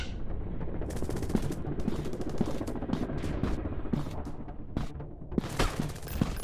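Rapid bursts of automatic gunfire and single shots crack out in a PUBG-style first-person shooter game, dense and loud with short gaps between volleys and muffled booms underneath.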